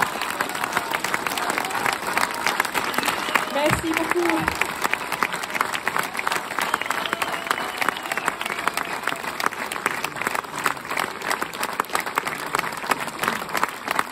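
Sustained, steady audience applause for a sailor at a Golden Globe Race 2023 event in Les Sables d'Olonne, dense clapping throughout with a brief spoken thanks partway in.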